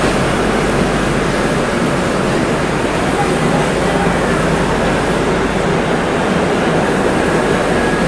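The Visakhapatnam to Araku Vistadome train running, a continuous broadband rumble and rushing roar heard from inside the coach, loud and steady throughout, with no clear voices over it.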